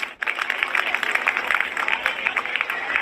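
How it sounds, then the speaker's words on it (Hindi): A crowd gathered at a hunger-strike protest bursts into loud, continuous clapping for Vicky Kalra, a busy crackle of many hands that holds steady after a brief pause at the start. "पेपर जोरदार तालियां विकी कालरा के लिए दूं।"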